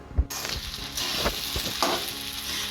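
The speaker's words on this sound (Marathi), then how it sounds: "हे असं पूर्ण फ्राय करून घ्या मिक्स करून घ्या पूर्ण बटाटे आणि साबुदाण्याला" Sago and diced potatoes fry in ghee in a kadhai, giving a steady, close sizzle with occasional soft scrapes and stirring knocks throughout, and no voices.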